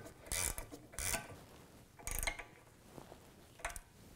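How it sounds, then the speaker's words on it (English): A 17mm ratchet wrench clicks in short bursts while tightening the rear shock bolt on a 2011-2019 Ford Explorer: four brief, close ratcheting spurts separated by pauses, fairly quiet. "take a 17mm ratchet wrench and a 7mm socket, and we'll just tighten this down"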